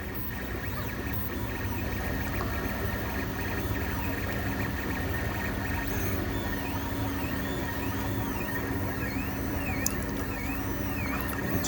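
A 3D printer runs steadily while printing a Russian doll set, giving a continuous mechanical whir with faint stepper-motor tones sweeping up and down, heard close and alone.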